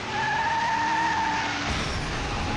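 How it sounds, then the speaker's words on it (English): A race car skids into the wall during a stock car race, with a loud sustained tire squeal and engine roar that abruptly shifts into a rougher rumble near the end. "Junior Miller is into the wall."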